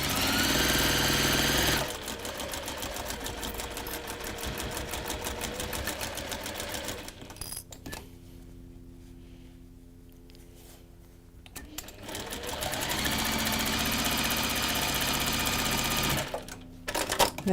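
A sewing machine set to stitch length 2 runs through layered textile, a rapid steady stitching rattle that pauses midway, leaving a quiet hum, then resumes at full pace and stops again near the end.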